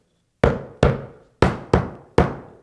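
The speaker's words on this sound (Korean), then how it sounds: "마지막에 안 들어가는 부분들은 이렇게 망치로" Hammer blows tapping a wooden mortise and tenon joint together during assembly of a DIY C-side table: five sharp, fairly loud knocks in an uneven rhythm, each ringing out briefly, with no talk.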